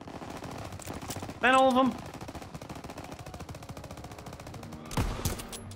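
Gunfire in Call of Duty: World War 2 rattles as a steady, fast automatic burst throughout, with a short spoken phrase and a louder shot near the end.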